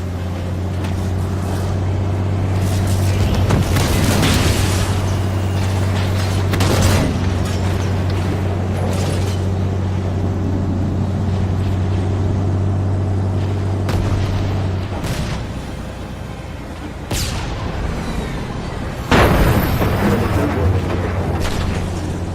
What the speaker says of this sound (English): Those cannons go nice and loud.